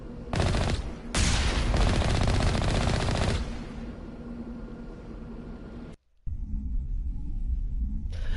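Sustained automatic gunfire from Mass Effect Legendary Edition during a space fight, loud and continuous for about three seconds after a brief opening burst, then a lower rumbling tail, a short dropout and steady ambient noise.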